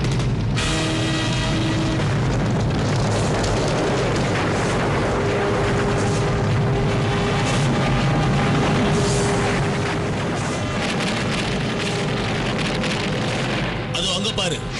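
A cartoon volcano erupts in a dense, loud roar of rumbling and crackling debris, continuous and chaotic throughout, with voices speaking over the din.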